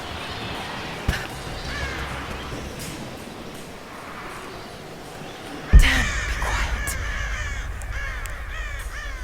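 Crows caw repeatedly in the video game Rise of the Tomb Raider, a cluster of harsh calls over steady ambience, with a sudden loud thump midway followed by more cawing.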